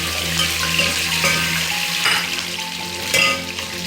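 Beef frying in about a cup of oil in a pot for beef karahi, a steady broadband sizzle with faint stirring scrapes and brief louder bursts near the end.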